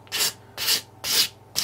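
A sanding block rubs across the end of a small HO scale wood piece in four steady back-and-forth strokes, each a soft, close, raspy swish separated by brief pauses.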